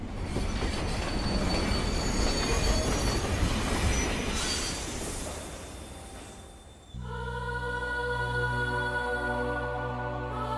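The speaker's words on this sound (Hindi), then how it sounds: "इस ट्रेन को भी इसी वक्त आना था" A train pulls into a small railway station with a loud, close rumble and squealing wheels that build and fade for several seconds, then give way to a steady, droning harmonic tone.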